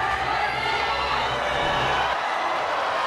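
Arena crowd roaring and cheering at a pankration match, a dense, steady wall of voices that holds loud throughout, with a deep rumble under the cheering dropping away near the end.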